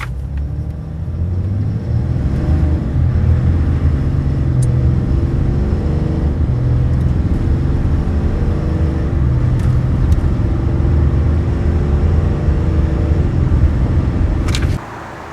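A 2025 RAM 3500 Cummins diesel pickup with an 8-speed transmission makes a 0-60 run, a loud, deep rumble that builds and holds through the pull before dropping off sharply near the end.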